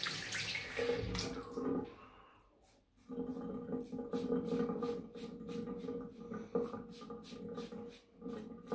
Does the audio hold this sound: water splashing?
yes